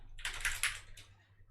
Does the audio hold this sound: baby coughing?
no